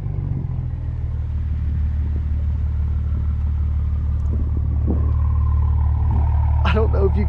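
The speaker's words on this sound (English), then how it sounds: "Let me try to give a little baby rev with my hand." A Toyota MK5 Supra engine, 3.0 or 2.0, idles with a steady low rumble that swells slightly as it is lightly revved by hand, close and loud, with a brief sharper burst near the end.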